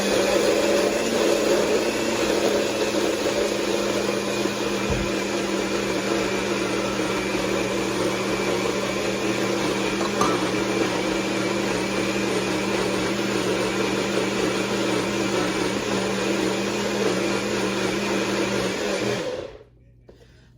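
A blender whirs loudly and steadily for about twenty seconds while mixing a Herbalife protein shake with ice, then cuts off abruptly.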